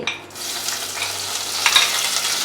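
Onions frying in hot ghee, a steady close sizzle with broadband crackle that holds evenly throughout, rising slightly near the end, with no voices.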